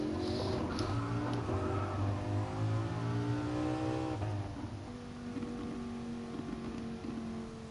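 Lamborghini Huracan LP road car in Gran Turismo Sport, its engine revving and shifting through gears with rising and falling harmonic drone, steady and fairly loud throughout, no talking over it.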